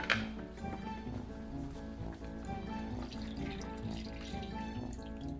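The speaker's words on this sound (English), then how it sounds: "I'm gonna actually add a little bit more water in here and turn up the heat" Water runs from a tap into a pot of kimchi stew, a steady moderate splashing and trickling that continues evenly without any voices.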